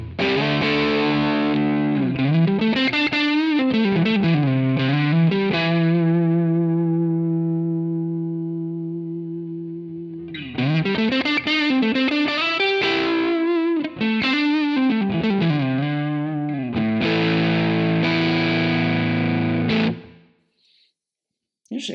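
Electric guitar through an amp capture on a Quad Cortex, playing distorted bent lead notes and sustained lines, then a pause before a second burst of chunky riffing and chords, ending abruptly.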